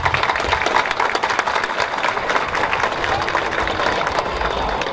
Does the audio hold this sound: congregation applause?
yes